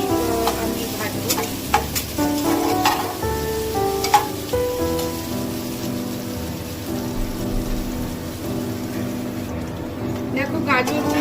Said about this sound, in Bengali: গাজর আলুটাও কাঁচা গন্ধটা যাওয়া পর্যন্তই আমি ভাজবো